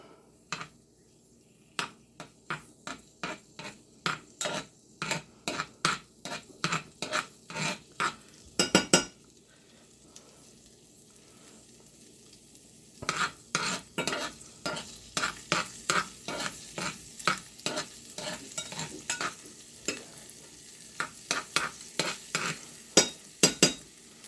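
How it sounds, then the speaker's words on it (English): Trinidadian-style dhal fries in a pot while a spoon stirs it, giving rapid rhythmic scraping and clinking strokes over a soft sizzle, in two bursts separated by a short quieter pause, close up and with no talking. "You can hear it frying a little bit."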